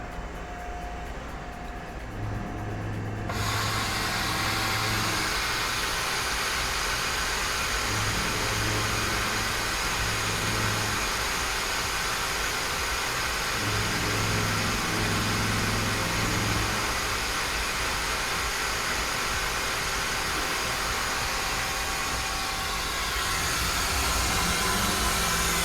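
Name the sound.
Mazak CNC machine engraving with hissing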